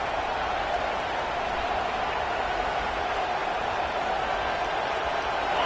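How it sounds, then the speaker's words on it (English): A football stadium crowd roars steadily at a Gators game on a third-down play, a broad, constant wash of cheering and noise with no break across the moment. "This crowd on hand trying to make sure the Gators don't back down on 3rd down."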